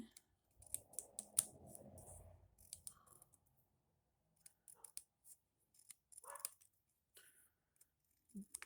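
Scissors cut paper for a punch craft, with quiet, close snips and rustles in short bursts separated by near silence.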